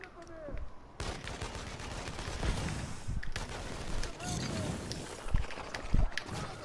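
Gunfire in the video game inFAMOUS Second Son, rapid repeated shots and bursts over a busy mix of game noise, with a few sharper, louder cracks toward the end.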